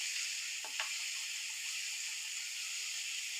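Masala and green chilies fry in a pan with a soft, even hiss throughout, while a pair of quick spoon scrapes sound early on and the rest stays a quiet steady sizzle.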